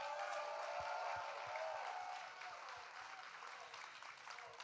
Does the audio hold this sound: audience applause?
yes